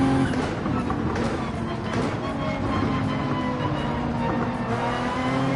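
Race car engines in Gran Turismo 7, a front-wheel-drive car diving up the inside under braking, steady loud droning and revving with no clear pass-by swell, under a continuous game mix.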